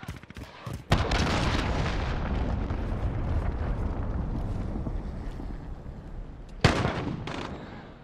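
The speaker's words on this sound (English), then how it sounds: "Enemy cruise missile incoming!" Loud explosive blasts from cruise missile strikes in a Call of Duty match, a sharp impact opening a long sustained roaring rumble that rolls on for several seconds before a second sharp blast near the end.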